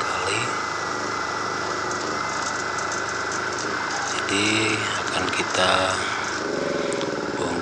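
A Honda portable generator engine idles steadily close by, its motor running despite producing no electrical output, with someone talking over the constant hum.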